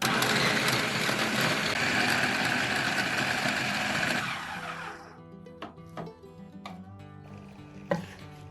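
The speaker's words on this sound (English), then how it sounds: "Give it a good blend till everything is well combined." Food processor blending blueberries and chopped dates for granola bars, a loud dense whir running steadily for about four seconds before cutting off, followed by quieter clatter and a few sharp knocks.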